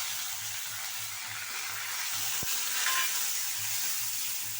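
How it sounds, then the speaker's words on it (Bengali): Gobindobhog rice frying in a little oil for a fish-head murighonto, giving a steady, even sizzle throughout with one short tap near the middle and no talking. "আমি আলু ভাজা তেলে আমি এটাকে ভেজে নিচ্ছি।"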